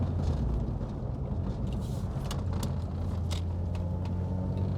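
A steady, deep six-cylinder engine rumble from a BMW E36 holds throughout, low and continuous with a few brief higher flickers, like a car idling or cruising close by.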